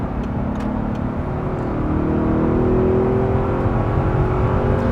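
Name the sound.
naturally aspirated V8 car engine running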